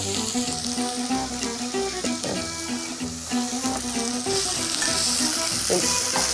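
Red peppers dropped into a pan of lightly caramelized onions, frying with a continuous loud sizzle and crackle, sustained without talk.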